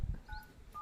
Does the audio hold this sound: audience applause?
no